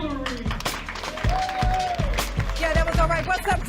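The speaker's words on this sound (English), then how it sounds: "Give a round of applause to none other than Dr." An audience at the Candid Conversations for Men event in Addison, Texas, applauds and cheers as speaker Dr. Kristen Guillory is welcomed: steady crowd clapping with whoops and shouted voices mixed throughout.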